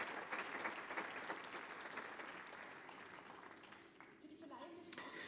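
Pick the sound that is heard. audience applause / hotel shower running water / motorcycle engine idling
audience applause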